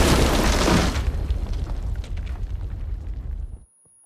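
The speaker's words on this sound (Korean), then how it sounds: "약속했던 폭발의 시간이 다가오고" Explosion in a film, a heavy booming blast with dense crackling debris that rumbles on for a few seconds, then cuts off abruptly into silence.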